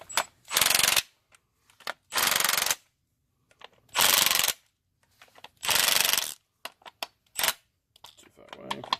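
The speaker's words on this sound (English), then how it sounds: "Such a small, short, little impact wrench" A small impact wrench removes bolts from a Fuller 5-speed gearbox on a Leyland Mastiff truck, firing in four loud, rattling bursts of about a second each, with a shorter burst and light metallic clinks between them.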